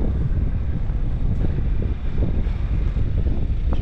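Outdoor wind buffeting a microphone at night, a loud, constant low rumble with gusty thumps throughout and no speech.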